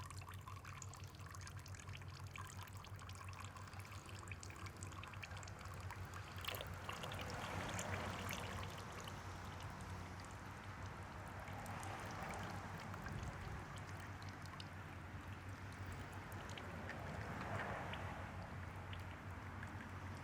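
Used oil trickles steadily out of a Mud Buddy 4000 EFI boat engine during an oil change, a faint, continuous dribbling over a low, constant hum that swells gently a few times.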